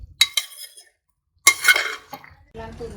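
A metal lid clinks onto a cooking pot of onions and green chillies being cooked for a country chicken curry, giving a few sharp near clanks with a brief scrape.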